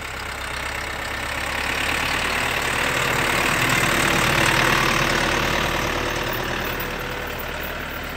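A FARMLEAD FL 704 tractor engine idles close by, a steady loud diesel rumble with a faint rhythmic knock that swells slightly in the middle and then settles, with no voices.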